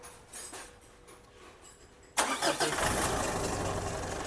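A car engine cranks and catches after a quiet stretch with faint clicks, jumping abruptly to a loud, steady idle that continues close by.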